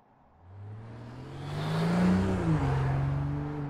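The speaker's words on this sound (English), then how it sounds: "The 3-liter inline 6-cylinder engine found in the new BMW X3 M40i and X4 M40i feature BMW twin-power turbo technology" A 2022 BMW X3 M40i with a 3-liter twin-turbo inline six and mild hybrid system accelerates, its smooth engine note swelling from a low hum into a loud, steady rising drone, with no voices.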